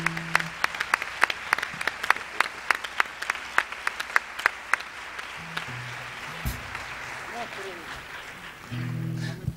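An audience at a tribute concert in Almería claps for a drummer, starting as distinct, sparse claps that thicken into scattered applause, then fading out as a voice begins speaking over low background sound.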